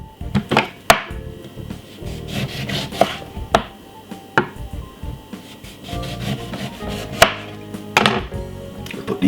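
Knife chopping fresh, peeled ginger into pieces on a board, a series of sharp, irregular cuts and thuds mixed with rubbing and scraping, close and fairly loud, with no talking.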